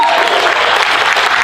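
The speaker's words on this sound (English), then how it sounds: "So please give yourselves a round of applause." Closing-ceremony audience at Blerdcon 2019, a fan convention, breaks into steady, dense applause from a large crowd, loud and continuous throughout with no break.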